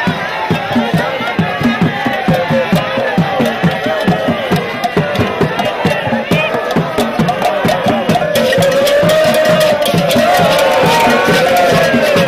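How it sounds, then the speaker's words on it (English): Crowd at the Igue festival cheering and shouting amid rhythmic chopping or drumming beats, loud and sustained, with voices rising together toward the end. "took his seat on the throne amidst cheers from the crowd."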